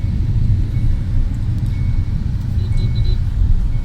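Steady low rumble of a four-wheeler driving along a road in Ahmedabad, heard from inside the car, continuous engine and road noise with faint brief high beeps near the end and no talk.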